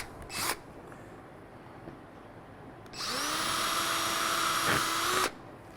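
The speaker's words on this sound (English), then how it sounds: "Since we're drilling into carpet," A power drill bores into boat carpet during a Lowrance HDS Live fishfinder retrofit, a steady high whine rising in pitch for about two seconds after a brief earlier burst, close and loud with no talk.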